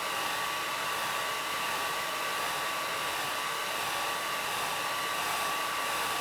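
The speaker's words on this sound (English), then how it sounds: "Just a hairdryer." A hair dryer blasts hot air onto the rubber keyboard mat of a ZX Spectrum 48k, making a loud, steady, unbroken rushing whoosh with a faint constant whine. No voices.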